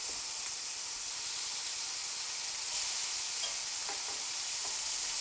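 Halloumi cheese frying in a pan produces a steady, even hiss of sizzling, close and unbroken, with a few faint clicks and no voices.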